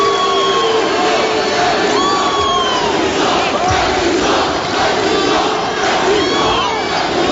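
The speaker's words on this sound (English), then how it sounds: "Carmel fans certainly engaged" Carmel basketball fans at a 4A regional high school game against Snider in Newcastle keep up a loud, continuous crowd roar, with shouts and whoops rising above the steady din throughout.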